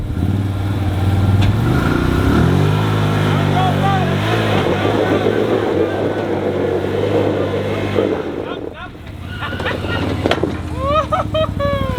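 Off-road Land Rover Defender rig driving on a rough trail, its engine droning loud and close with shifting revs as it strains, while people talk and shout over it.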